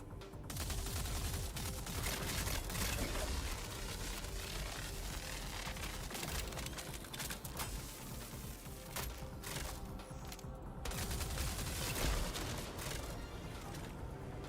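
Turrets in the video game Star Citizen fire in rapid, continuous bursts, a dense rattle of shots with heavy low thumps that runs almost unbroken at a fairly steady level and dips only briefly near the end.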